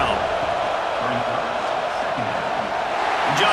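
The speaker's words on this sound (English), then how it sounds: "Here comes the noise from this big crowd in Happy Valley on third down." A big college football stadium crowd in Happy Valley roars on third down in a video game, a broad, sustained rumble of massed voices and cheering that holds steady, with a commentator's voice faintly over it.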